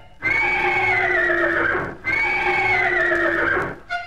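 A horse gives two long, loud whinnies one after the other, each rising and then trailing off, close and clear with a brief pause between them.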